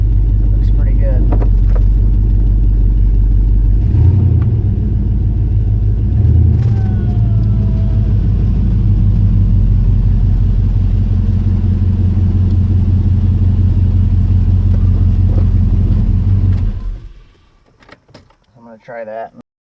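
A Ford Ranger with a swapped LQ4 V8 idles with a loud, steady low rumble while backing up, then cuts off abruptly near the end, followed by a few quiet clicks.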